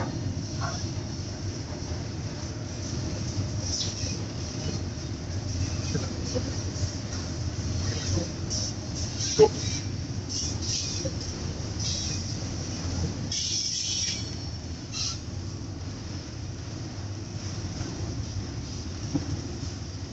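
A long train rolls past at a railway festival in Rochelle, Illinois, with a continuous rumble and clatter of wheels on track, steady and fairly near, plus occasional metallic squeaks and clunks from the cars.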